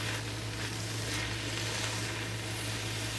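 Greens sizzle steadily in a hot pan as they cook down in a homestead kitchen, a loud, continuous frying hiss close by with no pauses.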